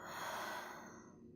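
A single long, deep exhale during a yoga cool-down, a soft breathy rush that is close and steady before slowly fading, with no talking.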